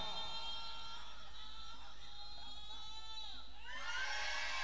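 A crowd cheers, whoops and shouts together at a Thai Buddhist ordination ceremony. The lively burst of voices sits over a steady, tonal background and swells louder near the end.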